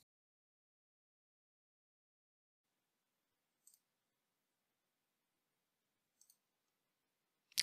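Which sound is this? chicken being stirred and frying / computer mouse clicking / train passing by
computer mouse clicking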